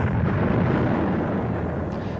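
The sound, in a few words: Big Bang explosion sound effect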